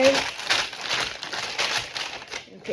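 Parchment paper crinkles and crackles up close as it is handled and folded, a continuous papery rustle with rhythmic louder crunches.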